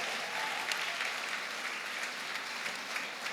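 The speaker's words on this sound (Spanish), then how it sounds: "Den un aplauso a Jesús." A congregation applauds during a church sermon, a continuous, even roar of many hands clapping at moderate distance with no voices standing out.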